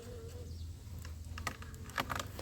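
A low, steady hum of one or two bees at an apiary in December runs throughout, with a few brief clicks and taps near the end; quiet and fairly close, no talking.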